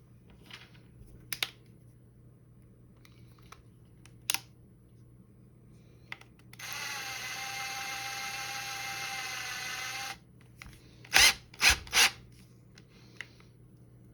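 A few sharp clicks, then a Ryobi One Plus cordless drill whirs steadily for several seconds before stopping, followed by quick clicks.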